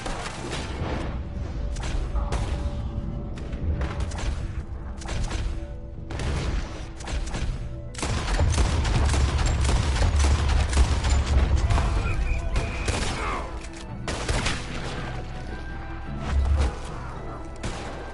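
Gunfire erupts in a chaotic firefight, heavy bursts and booming shots layered with crashes and whooshes, loud and continuous over several seconds, with shouting voices mixed in.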